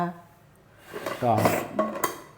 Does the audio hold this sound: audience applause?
no